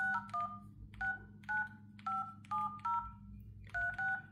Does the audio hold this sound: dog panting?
no